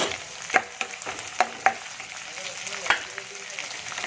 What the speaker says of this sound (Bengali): আদা রসুনের পেস্ট দিয়ে দিচ্ছি, দিয়ে এটাকে ভালো করে নেড়ে নেব। এটা হালকা করে ভেজে নেব।